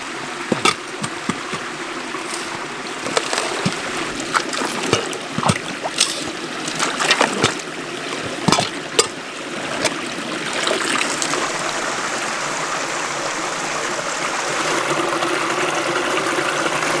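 Water sloshes and swirls in a gold pan as dirt is washed, with repeated splashy surges and pours in an uneven rhythm, close and fairly loud, then a steadier trickling wash toward the end.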